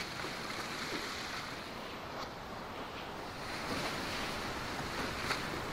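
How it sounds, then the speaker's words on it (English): Ocean waves in the Sailwind sailing video game, a steady broadband wash of surf and wind around a sailboat, continuous and fairly loud with gentle swells in intensity and no voices. "Oh, look at these waves."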